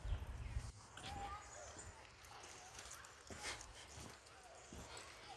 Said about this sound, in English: Here come another dog.